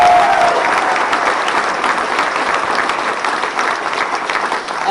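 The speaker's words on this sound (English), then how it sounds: "Give him a huge round of applause again." Crowd clapping for Florida Governor Ron DeSantis at a bill signing, dense sustained applause from a large audience that holds steady throughout.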